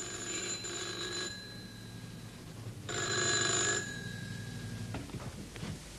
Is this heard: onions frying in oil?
no